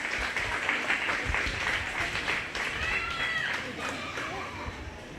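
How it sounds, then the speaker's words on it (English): Crowd applause at a 4-H/FFA goat show for the market goat winners, a steady patter of clapping across an arena with chatter and a voice over it. "Let's go ahead and give them a big round of applause"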